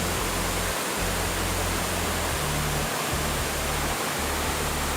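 Steady, close roar of falling water at Khlong Yot Nam waterfall in Nakhon Si Thammarat, a dense unbroken rush with a faint low rumble underneath and no voices.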